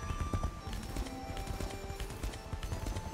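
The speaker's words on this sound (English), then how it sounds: "Come on, get on the damn horse." Horse hooves clip-clop steadily in the video game Age of Wushu, a busy rhythmic patter of hoofbeats layered over game music and ambient effects, with an occasional faint whinny.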